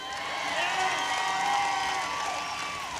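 Crowd at a Quincy Tea Party political rally cheers and shouts in a sustained, somewhat distant roar lasting a few seconds.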